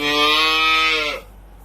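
A single crossbred cow moos loudly and close by, one long drawn-out call that stops abruptly.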